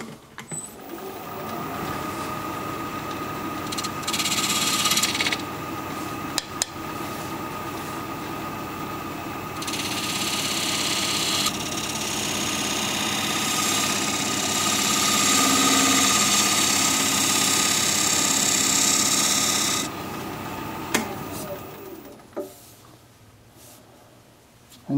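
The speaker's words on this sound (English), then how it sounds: "let's rework that tenon a little bit. And for that, I'm going to use a 3/8 inch swept-back bowl gouge." A wood lathe spins a bowl blank while a 3/8 inch swept-back bowl gouge reworks the tenon, giving a steady motor hum with a rising and falling hiss of cutting through the middle, then easing off near the end.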